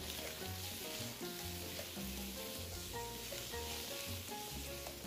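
Tiger prawn spaghetti seasoned with salt and black pepper is stir-fried in a pan, giving a steady, continuous sizzle that sits under loud background music throughout.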